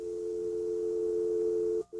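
A steady, loud telephone dial tone hums alone for nearly two seconds, then cuts off abruptly as dialing begins, followed by a brief blip of tone.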